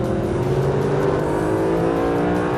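A Mercedes SLS AMG Black Series engine revs hard and steadily, a loud, continuous close-up roar with rising harmonic tones and no talking over it.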